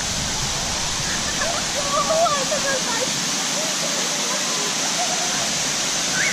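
Kawasan Falls in Bohol pours steadily as a broad, constant rush of water, loud and close, with faint voices and a few tonal calls drifting over the roar.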